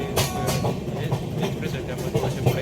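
An express train, the Madgaon summer special, runs on rails near Thane with a steady rumbling roar and rhythmic wheel clatter close by, filling the whole stretch.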